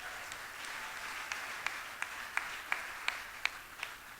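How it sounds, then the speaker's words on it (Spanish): A church congregation claps in praise of Jesus during an evening service, a faint, distant, even patter of many hands with a few sharper individual claps standing out. "Den un aplauso al Señor Jesús"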